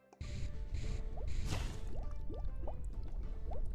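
Water poured in a steady stream while brewing in the Potion Craft video game, a continuous liquid trickle with small drip-like splashes over a soft whoosh, close and moderately loud throughout.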